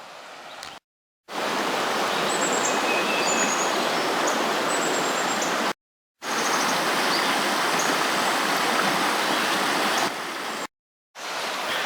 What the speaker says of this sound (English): The beautiful sound of water.